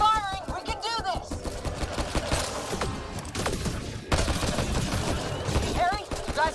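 Gunfire in Mass Effect: Andromeda crackles through a chaotic firefight, with dense overlapping shots and impacts alongside shouted voices and other combat noise.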